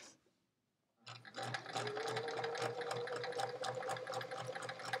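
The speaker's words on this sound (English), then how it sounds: "Just go around recording sewing sounds." After a second of near silence, a sewing machine starts stitching a quilt block, a close, steady rhythmic whirring with fast needle pulses that runs continuously to the end.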